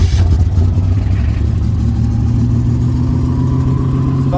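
A turbo Buick engine, a barn-find car, fires right away and runs loud and close at a rough, steady idle with a light clattering tick.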